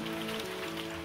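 A hail sound effect for the Bible plague of hail. It is a dense, steady patter like heavy rain on a hard surface, with a faint sustained tone beneath and no talking.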